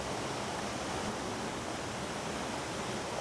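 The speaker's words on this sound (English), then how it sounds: "we've got another small waterfall just here." Small waterfall among rocks in Wales, a steady, broad rushing roar of falling water that holds constant throughout, moderately loud with no voices.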